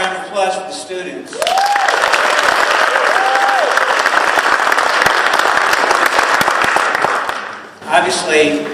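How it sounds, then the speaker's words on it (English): An audience at a re-enacted 1868 council meeting at Montclair's 150th anniversary applauds students with loud, sustained clapping. Brief talk comes before and after, and a couple of whoops rise over the clapping. "How about a round of applause for the students?"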